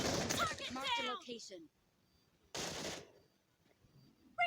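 A voice talks briefly, then a short, sharp burst of rapid gunfire from PUBG Mobile rings out, followed by quiet and a final clipped shot.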